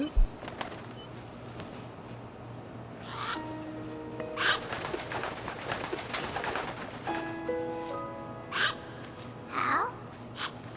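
A parrot calling in Metal Gear Solid 2, several short squawky cries scattered over low ambient game hum, fairly close and distinct.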